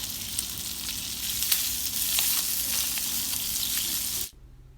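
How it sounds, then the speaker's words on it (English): Smoked sausage fries in oil in a skillet with a loud, steady sizzle and occasional scraping stirs, then the sound cuts off abruptly just before the end. "you want to go ahead and just put your sausage in your skillet, mix it around really good"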